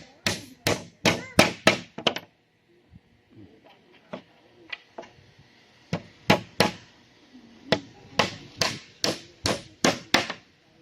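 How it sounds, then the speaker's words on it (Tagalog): Sharp hammer blows ring out in quick rhythmic bursts while building a wooden seat, pausing briefly in the middle before resuming, with faint talk in the gap. "Gamit na akong martilyo."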